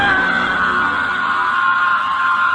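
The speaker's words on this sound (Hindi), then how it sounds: "तभी उन्हें राकेश के चिल्लाने की आवाज आई।" A man's sustained, tense scream rings out loudly and without a break, like a horror story sound effect, filling the whole moment on its own.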